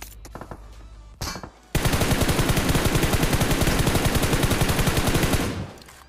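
PUBG Mobile gunfire: a few scattered shots, then a long, loud burst of rapid automatic fire in an even staccato rhythm that runs for several seconds before cutting off.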